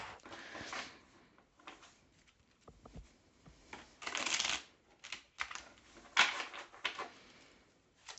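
A deck of tarot cards is shuffled nearby in quick riffling bursts with soft taps and pauses between, fairly quiet and with no talk.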